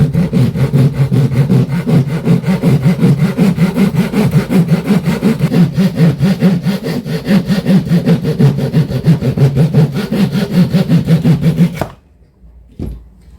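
A 9-inch pull saw cuts through a wood piece in fast, even, rasping strokes for about twelve seconds, loud and close, then stops abruptly, followed by a single light click.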